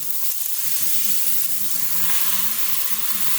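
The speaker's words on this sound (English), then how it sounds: "If you don't hear that sizzle when you put your chicken in the pan" Steady, loud sizzling of boneless chicken breast frying in a hot pan, a continuous crackling hiss with no talking.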